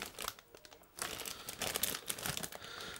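Small plastic bags from a Blitz Flux RC hobby parts kit crinkle up close as they are unpacked, giving continuous crackly rustling with short louder bursts.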